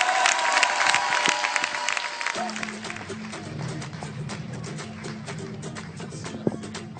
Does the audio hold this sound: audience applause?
yes